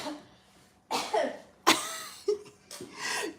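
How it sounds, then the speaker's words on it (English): Several separate coughs in a row, harsh and close, with short pauses between bursts. "This guy is coughing."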